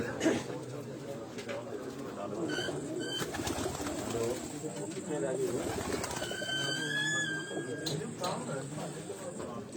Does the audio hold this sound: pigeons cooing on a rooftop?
yes